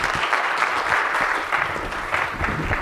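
An audience at a talk session applauds for a speaker, dense steady clapping fairly close in a room, continuing evenly throughout the short stretch.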